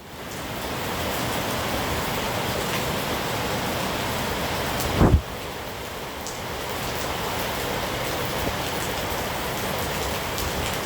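Steady heavy rain falls in Ghana, a dense even hiss throughout with a brief sharp knock near the middle, no voices.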